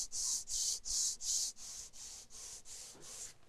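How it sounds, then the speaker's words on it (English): Wood coated with shellac and pore filler is lightly hand-sanded with 320 grit sandpaper, giving eight even back-and-forth rasping strokes that start strong and grow softer, close up and with no talking. "So what I do is just lightly sand it."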